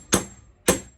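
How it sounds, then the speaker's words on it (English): A hammer strikes a steel wedge driven into pallet wood, giving two sharp, loud, close blows about half a second apart, each ringing briefly before fading. "You got your hammer, pry the wood right out of there."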